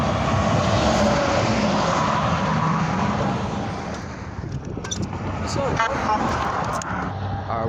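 A Freightliner truck passes on Route 287, a broad roar of tyres and engine loud at first and gradually fading as it moves away, with lighter road noise and a short high squeal late on.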